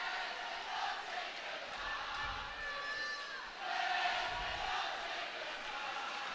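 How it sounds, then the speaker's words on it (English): Nottingham Panthers fans cheering in an ice hockey arena against the Sheffield Steelers, a distant crowd roar that swells and fades, with a referee's whistle and faint talk over it. "Panthers fans here still very vocal, still cheering the team on as they do no matter what the score"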